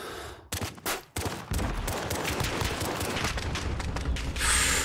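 Rapid pistol gunfire in a French shooter game, a dense run of sharp close shots firing almost continuously with mechanical clicks, loud and steady.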